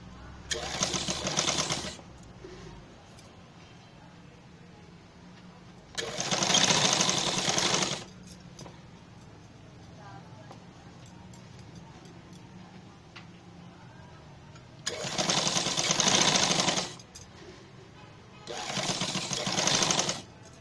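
A sewing machine stitches a straight seam attaching cancan hard net onto a long frock, running in four separate loud whirring bursts of about two seconds each, with quiet pauses between them.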